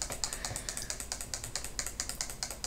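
Rapid clicking and typing on a computer keyboard, a steady close-up patter of keystrokes with no voices over it.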